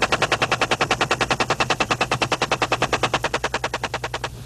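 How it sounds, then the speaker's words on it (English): Machine guns fire from escorting helicopter gunships in a long, rapid, steady burst of about forty evenly spaced loud shots lasting over four seconds, with a low rotor rumble underneath, then stopping abruptly. "permission to fire is granted, and the escorting gunships race in"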